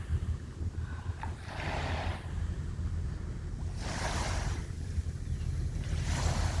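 Small ocean waves at low tide wash onto the end of 49th Street beach in gentle, separate surges a couple of seconds apart over a steady low rumble, quiet and with no voices.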